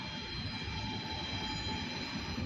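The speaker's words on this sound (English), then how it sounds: "There's a train coming." OC&T light power train rolling past the WL Plastics plant in Titusville, Pennsylvania: a steady low rumble of rail traffic with faint high squeal tones, moderately distant and continuous.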